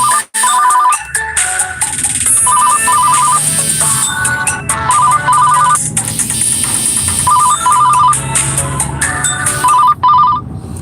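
A phone ringtone sounds for an incoming call inside a car, a loud repeating electronic melody with a steady rhythm that plays alone throughout.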